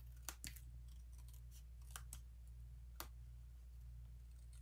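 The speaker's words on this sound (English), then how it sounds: "I'm going to go ahead now and cut the extras here." Scissors trim excess card paper, giving faint, close, irregular snips and clicks over a low steady hum.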